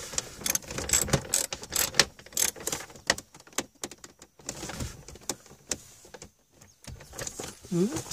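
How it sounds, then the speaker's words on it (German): Ratchet and Torx 40 bits loosening the seat mounting screws on both sides of a Mercedes-Benz C 220 CDI W203/S203, heard as irregular metallic clicks and mechanical rattles with some talking in between. "Dann schnappe ich mir Werkzeug und schraube auf beiden Seiten die Schrauben los. Ja, Es ist ein 40er Torx."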